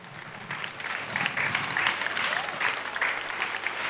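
A congregation clapping at an evangelism service, dense crowd applause swelling and holding steady with faint voices mixed in.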